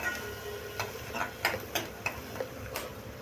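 Finely chopped garlic and onion sautéing in a pan for a Maharashtrian methi pithla, with soft steady sizzle and several sharp spatula taps against the pan.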